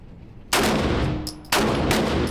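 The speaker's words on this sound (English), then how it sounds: "Alright, you finna shoot like 5 bullets." A lightweight gun fired at a shooting range, giving two loud, sharp shots about a second apart, each followed by a ringing echo, with no talking.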